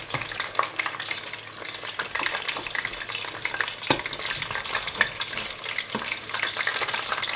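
Chicken pieces fry in hot oil, giving a dense, continuous crackling sizzle up close with scattered sharper pops and no voices.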